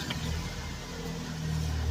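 A Nissan X-Trail engine runs steadily up close during a fault-code repair, a low mid-pitched hum that rises slightly toward the end, with no talking.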